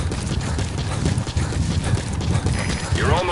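Horse hooves clip-clop in Metal Gear Solid V: The Phantom Pain, a steady trotting rhythm under game ambience and a voice talking over it.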